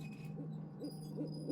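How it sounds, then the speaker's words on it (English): An owl in the video game Syberia II hoots faintly in a slow series of four soft calls over a steady low hum. "when you bring the owl here"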